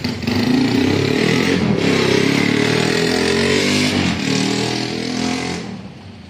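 A Honda Wave 125 motorcycle engine converted from carburetor to fuel injection runs loud and close on test, a steady rough idle with a brief rev swell in the middle that then fades down toward the end.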